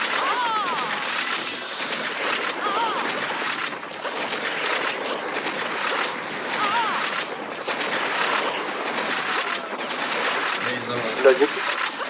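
Constant gunfire and explosions from Serious Sam Fusion in four-player co-op rumble throughout, a dense and steady barrage of shots and rocket blasts with no pause.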